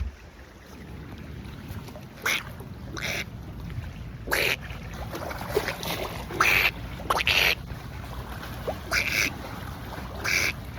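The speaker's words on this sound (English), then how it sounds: "Hold on, can we get this duck right here?" Duck quacking near a boat on open water, several short nasal calls coming in irregular bursts over a steady wind and water hiss, moderately close.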